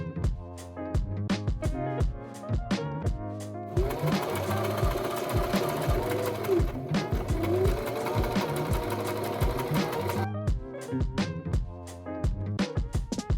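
A sewing machine stitches a tote bag with quick, close bursts of mechanical whirring, then runs loud and steady for several seconds before returning to short, stop-start stitching runs.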